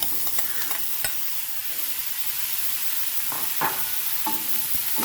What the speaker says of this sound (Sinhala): දැන් මේක ටිකක් බැදෙන්නට හැරලා මේ පතෝල ටික දාගන්න